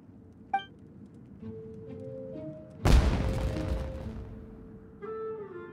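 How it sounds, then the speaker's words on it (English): A single loud firework blast in the game Genshin Impact, a sharp boom that decays into a crackling, fading rumble, set among soft game music and chimes. "It sounded like fireworks."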